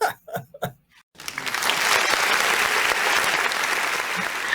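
After a brief voice, a studio audience bursts into steady, full applause that carries on evenly to the end.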